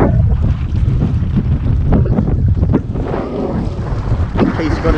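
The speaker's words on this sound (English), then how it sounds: "so gusty that I nearly tipped the boat over a few times" Gusty wind buffets a Hobie Tandem sailing kayak out on open water, a loud, rumbling roar of wind against the microphone, with water sloshing and faint flapping underneath.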